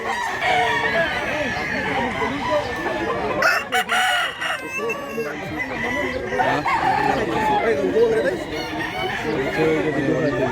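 Roosters crow repeatedly while chickens cluck in a busy poultry market at Mantalungon, Barili, Cebu, with people talking close by throughout.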